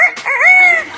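A parrot imitates a rooster crow in one short, loud, bending call lasting about a second, delivered alone up close.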